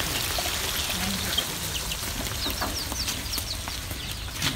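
Water poured into a cooking pan makes a steady splashing, trickling stream, fairly close and continuous, with faint background voices under it.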